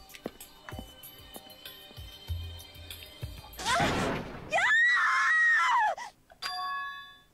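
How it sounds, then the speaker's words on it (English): In Danganronpa 2: Goodbye Despair, a girl's scream rings out with a long, wavering, high-pitched cry. Sharp game sound effects and thuds come before it, and a bright chime-like hit follows. "A scream?"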